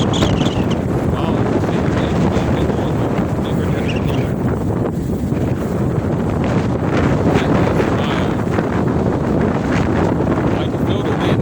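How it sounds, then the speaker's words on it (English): Strong wind buffets the microphone beside choppy, stirred-up water, a constant loud roar with no pause, and waves lapping underneath. "I can feel the wind on me, too"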